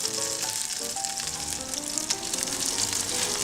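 Braciolette browning in olive oil in a pan, a loud continuous sizzle close up with scattered pops and crackles, no voices.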